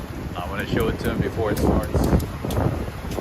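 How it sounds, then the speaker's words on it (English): Strong wind on a Harlem street at night during rush hour, roaring and buffeting the microphone as a steady gusty rush under someone talking nearby. "it's a super, super windy night"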